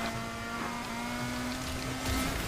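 A car engine in the racing game Need for Speed Heat holds a steady droning tone, then swells a little louder toward the end as it accelerates, with no talking heard.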